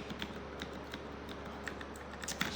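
Soft, quick clicking of keys on a computer keyboard, light irregular taps with a few sharper strokes near the end, faint and close over a steady low hum.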